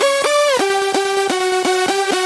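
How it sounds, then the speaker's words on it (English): A progressive house synth lead with mondo mod vibrato plays loud, harmonically dense notes with a pitch drop early on, then a held tone pulsed by rapid, regular rhythmic chops throughout. "this is the mondo mod which I use for the vibrato of the leads"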